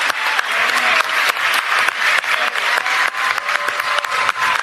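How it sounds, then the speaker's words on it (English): Community crowd at a small gathering applauding loudly and continuously, dense clapping with a few sharp individual claps standing out, near and full, with no speech over it. "listen to that crowd"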